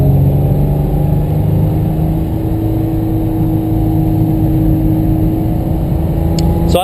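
A modified 1990 Isuzu Trooper engine hums steadily while driving, a close, even drone that holds level throughout with no speech.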